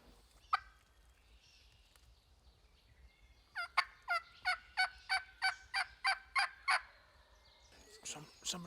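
A wild turkey gobbles during a turkey hunt, with one early call and then a rapid, evenly spaced run of about ten gobble notes. The bird sounds moderately distant against a quiet outdoor background.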